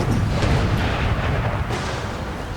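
Heavy cannon fire on a Napoleonic-era battlefield in Empire: Total War, a dense, continuous rumble of booming artillery that stays loud throughout, with low thuds rolling over one another.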